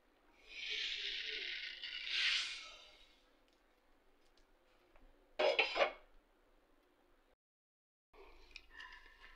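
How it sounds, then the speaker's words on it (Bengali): Roasted coriander and cumin seeds pour onto newspaper in a rustling, rattling burst of about two seconds, then a short sharp crackle follows as the paper shifts. "খবরের কাগজে এটা ঢেলে নেব।"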